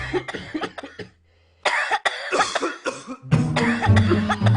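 Several harsh coughs in quick bursts, close by, with a brief quiet gap and a low hum underneath before another dense run of coughing.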